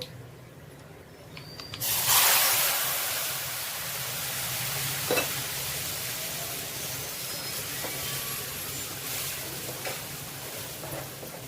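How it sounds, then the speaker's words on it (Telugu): A hot tempering poured into a red fruit-chilli pickle bursts into a loud, steady sizzle about two seconds in after a quiet start, then keeps hissing evenly, close by, with no talking. "ఇప్పుడు మనము పోప్ ఇందులో వేసేస్తున్నామండి"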